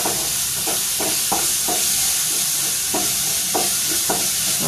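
Ginger and garlic sauté in hot oil for egg fried rice, giving a steady close sizzle broken by rhythmic spatula strokes roughly every half second.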